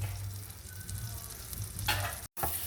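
Garlic frying in butter for a sauce makes a continuous close sizzle under a low hum, with a brief stirring scrape near the end just before a short dropout, and no one talking.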